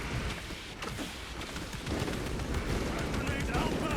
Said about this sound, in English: My bolter will silence you!